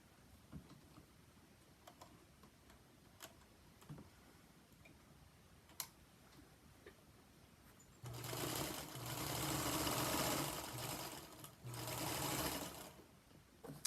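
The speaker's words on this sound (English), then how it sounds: "I'm going to sew these two, the upper left and the upper right, together" A domestic sewing machine joins quilt blocks, quiet ticking and handling for several seconds before the motor runs in two steady whirring bursts, close and fairly loud.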